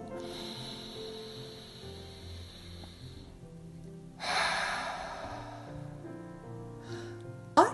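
Slow, relaxed exhalations through the mouth during a children's breathing meditation, with a soft steady breath stream and a stronger, louder out-breath midway, all close and quiet with no talking.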